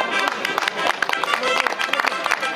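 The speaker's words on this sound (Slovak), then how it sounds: "Aj pri Barborku veľký potlesk." Brisk crowd applause at an outdoor youth marathon award ceremony, dense steady clapping throughout with no clear pauses.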